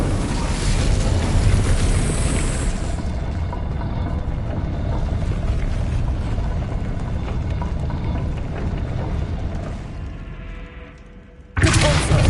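An Incendio fire spell in Hogwarts Legacy produces a loud, sustained roaring rush with deep rumble that holds steady for many seconds, dips briefly near the end, then surges back abruptly.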